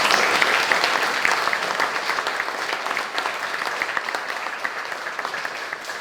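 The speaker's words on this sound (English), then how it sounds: "Would you give them a round of applause?" Audience at a county corn feed breaks into loud, sustained clapping from a large crowd, dense and steady before slowly thinning out toward the end.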